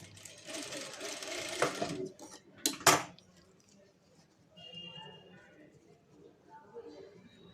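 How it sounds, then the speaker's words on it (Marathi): A domestic sewing machine stitches lace onto a fabric piece in a short whirring run of about two seconds, followed by sharp clicks and handling clatter, close-up, with someone talking afterward. "तर त्याच पद्धतीनं आपल्याला पण अशी टीप मारून घ्यायची आहे."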